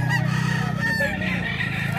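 A brown red fighting rooster crows at close range, one drawn-out call over a steady low hum, with other fowl faintly around it.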